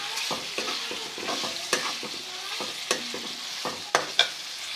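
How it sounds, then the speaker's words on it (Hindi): Tender-cooked mutton for Kashmiri yakhni gosht fried in a pot, a close sizzle under constant vigorous stirring, with rhythmic spoon scrapes and a few sharper knocks against the pot. "अब गोश्त को भी भूनेंगे 4 से 5 मिनट"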